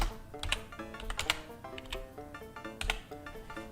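Typing on a computer keyboard at close range, a steady run of crisp key clicks with a few heavier thumps, in an otherwise quiet room.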